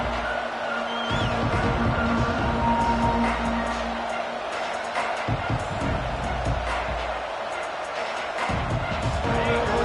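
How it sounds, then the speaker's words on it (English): Loud, dense American football stadium crowd roar that swells and surges continuously, a wash of cheering voices filling the whole stretch with no pauses. "this crowd is fired up. Listen to this noise here."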